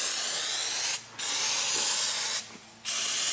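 Krown rust proofing oil sprayed onto a car's underside along the brake lines, a close, loud continuous hissing spray in three bursts separated by two brief pauses.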